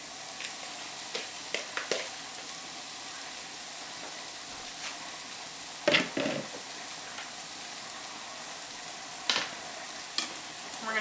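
Bell peppers and other vegetables sizzling in a warm skillet, a quiet continuous frying hiss with scattered crackles and a few sharper clatters as the veggies are tossed in, no talking.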